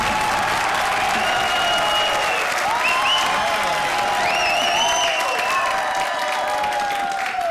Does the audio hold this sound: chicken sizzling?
no